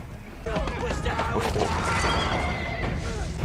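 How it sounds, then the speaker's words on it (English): A horse whinnies loudly in a film scene from The Revenant, a shrill rising neigh over heavy rumbling movement and hoof noise, close and intense throughout. "He's riding on the horse"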